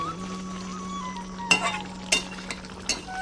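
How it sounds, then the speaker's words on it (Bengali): Rui fish curry being stirred in a pan as it finishes cooking, with a steady low sizzle and a few sharp scrapes of a spoon against the pan, close by. "এবার দিয়ে হালকা করে নেড়ে দেবো নেড়ে চেড়ে আমি নামিয়ে দেবো"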